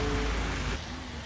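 Steady rain hiss outdoors on a street at a Yangyang market day, with a low rumble of passing cars underneath; brief and fairly quiet.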